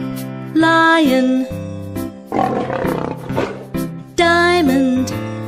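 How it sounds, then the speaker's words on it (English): A lion's roar rises in the middle, rough and loud, between bright tonal musical notes that play before and after it. "lion"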